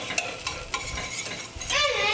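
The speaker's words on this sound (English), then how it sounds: "So keep that stirring together and see if that helps any." A spoon works a butter mixture around a hot pan, scraping in short, repeated strokes over a soft sizzle that swells louder near the end.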